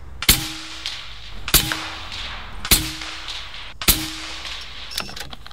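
A .457 caliber air rifle fires four sharp, loud shots at a target at roughly one-second intervals, each a hard crack with a short ringing tail and a faint clang, with a softer click at the end.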